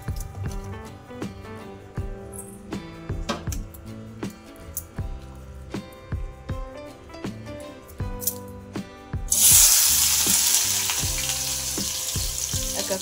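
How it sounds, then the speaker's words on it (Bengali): Ingredients for fried rice clatter and sizzle in a pan, with scattered knocks and utensil sounds, until a loud burst of hot-oil frying takes over near the end. "এক এক করে এগুলো এবার ভেজে নেব।"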